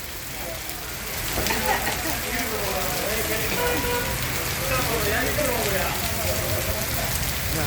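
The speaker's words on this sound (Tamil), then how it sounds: "காற்று மழை வெளுத்து வாங்குது செம்மையாக" Steady heavy rain with strong wind patters and hisses on surfaces along a road, a dense continuous roar, with a voice speaking faintly underneath.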